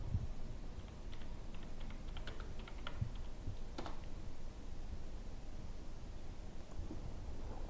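Soft typing on a computer keyboard while a plugin name goes into a search box, scattered clicks and short bursts of keystrokes over a steady background hiss, no voices.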